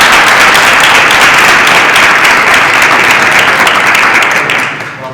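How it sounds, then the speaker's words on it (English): A large audience at a school committee meeting gives a loud, sustained round of applause, steady and dense throughout before tapering off near the end. "So while we have you here, I'm going to ask for another round of applause."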